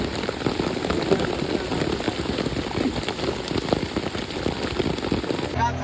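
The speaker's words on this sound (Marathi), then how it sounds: "मस्त असा पाऊस पडतोय" Rain falls steadily outdoors at a village bullock-cart racing ground in Patgaon, a dense, close patter on surfaces with small irregular spikes and no clear speech.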